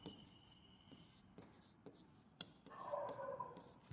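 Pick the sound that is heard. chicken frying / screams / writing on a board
writing on a board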